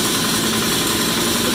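Hand-crank engine running steadily, a close, loud, even idle-like drone with a constant mechanical hum and no pauses.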